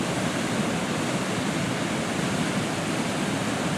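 A heavy volume of water pours over Wren Falls into a deep pool, making a continuous broadband roar that stays loud, close and unbroken with no other sounds.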